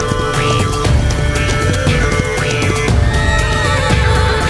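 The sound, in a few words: horses neighing in the video game Heart of Mongolia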